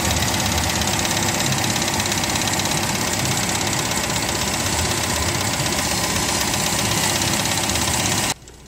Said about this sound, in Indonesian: Nah ini udah nyala ya teman-teman ya Jadi tunggu beberapa menit sampai mesinnya agak panas